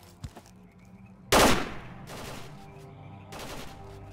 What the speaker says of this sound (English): I can see someone shooting right there.